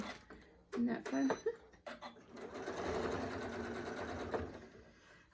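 A sewing machine runs fast and steady for a few seconds with the foot pedal pressed hard, stitching ribbon for a Christmas candy ornament, after brief bits of voice and clicks; the motor whirs loudly and close.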